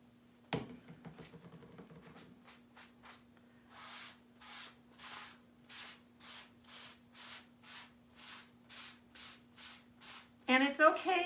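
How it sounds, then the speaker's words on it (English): Cleaner spritzed from a hand spray bottle onto a silk screen with a vinyl stencil: after some brief handling noise, a long run of about a dozen evenly spaced, close hissing squirts, then a louder scrubbing rustle at the end. "Just give it a spray."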